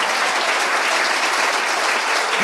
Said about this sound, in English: I want you to clap again.